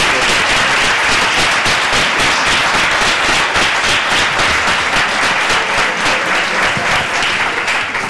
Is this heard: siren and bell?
no